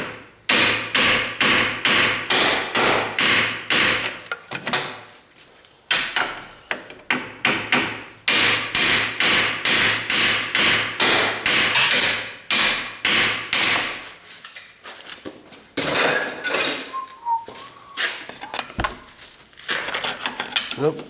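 Repeated metallic hammer blows on a lower control arm bolt of a 2002 Pontiac Grand Am, a fast steady rhythm of loud clanging strikes that pauses briefly, then resumes.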